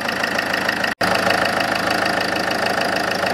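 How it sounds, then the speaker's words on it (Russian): A 2011 Range Rover Evoque 2.2 diesel engine idles right after glow plug replacement, a steady close rumble with a faint knocking rhythm and one very brief dropout. "Завел, работает."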